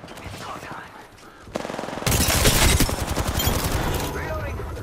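Rapid automatic gunfire in the video game Apex Legends, a dense rattling burst of shots that starts suddenly and continues loudly, with a voice speaking briefly just before it begins.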